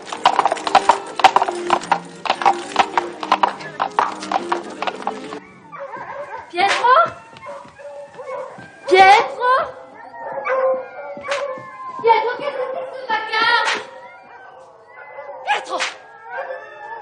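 A dog barks and howls amid horses' hooves clip-clopping, with people talking around the animals, the barks coming in irregular bursts after an opening stretch of hoofbeats.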